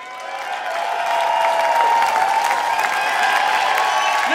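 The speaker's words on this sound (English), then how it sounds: "Give her a round of applause." Concert crowd applauding and cheering a volunteer brought on stage at a live rock show, a dense wash of clapping and crowd noise that swells after the first second and holds steady.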